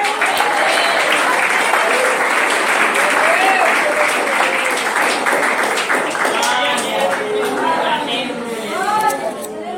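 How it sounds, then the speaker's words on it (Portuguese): A church congregation applauds throughout, a dense steady wash of clapping mixed with voices calling out over it, loud and sustained for the whole stretch. "vamos aplaudir o Senhor,"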